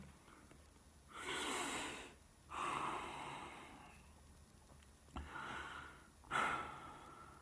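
Deep, slow breaths, four long airy inhales and exhales spaced a second or so apart, close and fairly soft with no talking.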